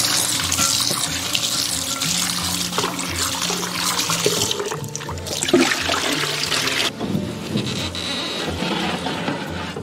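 Prawns are rinsed under a running tap in a sink, a continuous rushing splash of water with some shifting as the shellfish are handled, close and steady throughout.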